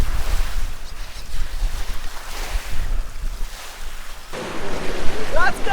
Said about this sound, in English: We walked down to the ocean